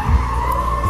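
Ford drift demo car at SEMA 2016 in Las Vegas skidding, its tires giving a short, loud, sustained squeal close by.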